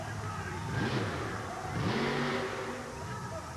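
A supercharged alcohol-burning monster truck engine revs up twice in rising, growling pulls, loud and raw, with a steady background roar between the bursts, at a 1988 USHRA event in Kansas City.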